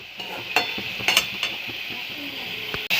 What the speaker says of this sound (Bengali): এদিকে আমি সবজিগুলোকে কিন্তু একটু সুন্দর করে ভাজা করে নিচ্ছি